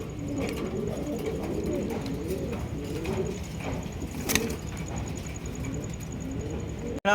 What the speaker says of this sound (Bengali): আরো এক জোড়া আফসান গিজের রেসার কবুতর একদম সেম কোয়ালিটির মধ্যে দেখতেই পাচ্ছেন